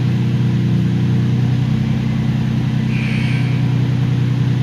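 An Infiniti/Nissan engine, with a newly replaced gas pedal, hums close and loud in a steady, sustained drone as the pedal is pressed, with no voices heard.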